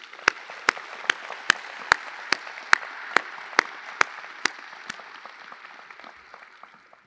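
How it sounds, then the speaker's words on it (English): Applause at a doctoral hooding ceremony, led by one nearby person clapping in sharp, evenly spaced claps over a softer spread of audience clapping that thins and fades toward the end. "Let us please give a round of applause to thank everyone who has been part"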